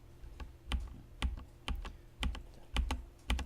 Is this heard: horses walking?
no